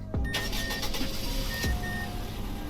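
Startup of a video-game car in its Sport front-wheel drive trim: a starter whirs briefly, the engine catches, and a short second start sweep follows. It settles into a steady idle, close and clear, with no talk.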